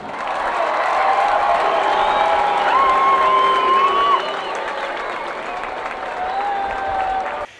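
Long applause from a crowd of citizens at a municipal festival in Adrano, Sicily, a steady dense clapping that holds loud and even throughout, with faint crowd murmur and a whistle-like tone running beneath.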